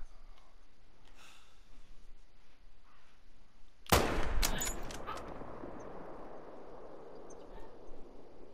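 A single sharp Mosin Nagant rifle shot in a mule deer hunting video game, cracking loud and close after a quiet stretch of low ambient noise, followed by a brief rattling echo and bolt-like clatter that dies away.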